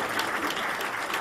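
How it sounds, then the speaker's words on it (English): Brief burst of even audience applause at an energy conference, moderately loud and steady, with no voices. "So round of applause for Adam at Altaeros."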